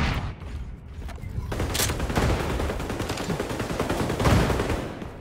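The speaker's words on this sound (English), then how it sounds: "Grenades away! Got that napalm you requested." Grenade and napalm blasts in the shooter game XDefiant, a dense, loud barrage of bursting explosions and rapid gunfire that rolls on continuously with several sharper bangs standing out.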